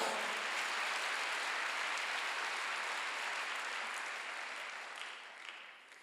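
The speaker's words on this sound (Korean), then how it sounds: "박수로 영광을 돌리시고," A church congregation at a Sunday worship service claps together in sustained, dense applause that holds steady for several seconds and then slowly fades.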